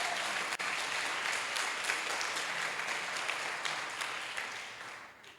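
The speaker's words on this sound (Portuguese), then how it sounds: "Você pode aplaudir bem forte." A church congregation applauds strongly during a sermon, a thick even roar of clapping that holds steady and then slowly fades toward the end.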